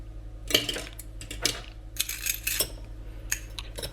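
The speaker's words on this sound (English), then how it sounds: "carefully begin to whisk" Egg yolk whisked in a pan over low heat for a dark chocolate recipe, quick metallic clinks and scraping in uneven bursts, close and fairly clear.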